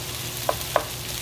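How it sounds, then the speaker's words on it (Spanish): Potatoes with onion and longaniza fry in a pan under a steady, even hiss, with two soft knocks from a stirring utensil close by. "Pues aquí estamos meneándole a las papas."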